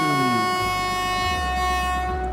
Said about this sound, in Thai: มาฟังเสียงแตรกันสักหน่อย ผมใส่เสียงแตรเข้ามาละ